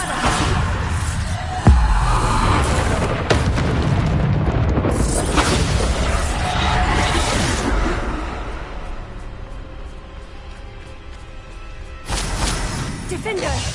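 Bombarda spell blasts in Hogwarts Legacy boom loudly, heavy explosive bursts with rumbling low end. Several hit in close succession early, then quieter debris and rumble follow before another blast near the end.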